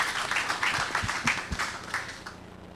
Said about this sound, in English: So if you give them a round of applause, please.